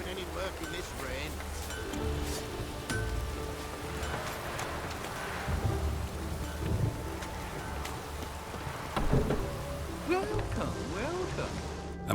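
Steady rain falling in The Witcher 3 game world, a continuous broadband wash of drops with some wind, while a voice and other game sounds come through on top.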